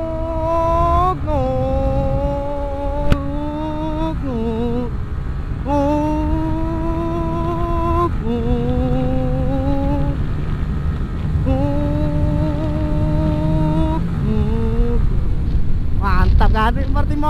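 Motorcycle engine on an Indonesian road ride revs and climbs in pitch through several gear shifts, dropping back between each rise, steady and loud under constant wind buffeting on the microphone.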